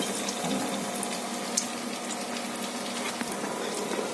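A potato-meat cutlet coated in egg and biscuit crumbs fries in hot oil, giving a dense, steady bubbling sizzle that stays close and fairly loud throughout, with a few faint clicks and no speech.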